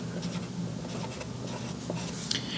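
A pen or marker writes a single word by hand on a board, a steady scratchy rubbing that runs continuously, close and fairly quiet, with no talking.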